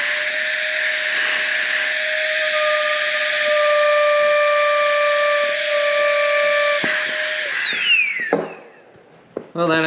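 A Flextail Tiny Pump 2x air pump runs with a loud, steady, high-pitched whine for about eight seconds, then winds down and shuts off, followed by a faint click.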